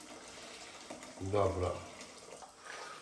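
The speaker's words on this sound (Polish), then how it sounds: "Po prostu wlewam wodę już przygotowaną." Prepared water poured from a kettle into a pan while cooking Asian-style shrimp with vegetables, a brief splashing pour of about a second at moderate volume, with a short spoken word in a quiet kitchen.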